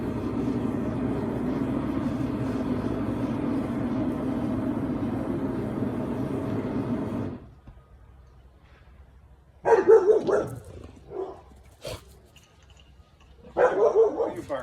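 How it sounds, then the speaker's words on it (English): A dog next door barks in a few short bursts near the end, after a long steady hum of a running forge that cuts out partway through. "What are you barking at?"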